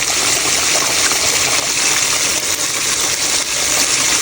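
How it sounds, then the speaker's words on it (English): Water poured from a vessel, a steady continuous gushing stream running without pause, close and fairly loud, in a home kitchen while cooking a Sunday dinner of roti, curry goat and fried chicken. "We're gonna add just a little bit of water"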